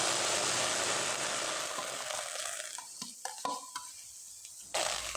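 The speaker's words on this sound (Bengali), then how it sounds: "এবার ম্যাশ করা গাঠি কচুটা দিয়ে দিব।" Mashed taro goes into a hot wok, starting with a loud broad sizzle that fades into quieter scraping and stirring taps, then a final brief burst of sizzle, close by with no voices.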